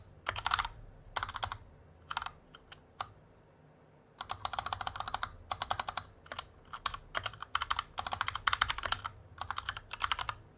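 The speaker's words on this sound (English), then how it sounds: "So my keyboard's gone absolutely to shit at the minute." Someone types on a faulty computer keyboard in quick, irregular bursts of clicking keys, with short pauses between the bursts, heard close and fairly quiet.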